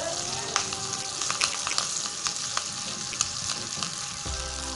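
Chopped onions and curry leaves tempering in hot oil for instant sambar make a steady, close sizzle with scattered sharp crackles and pops throughout.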